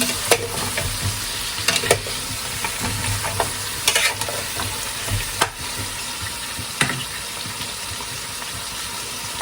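Spoon stirring paksiw na pata, braised pork hocks, in a pan, with scraping clinks against the metal over a constant loud sizzle and bubbling.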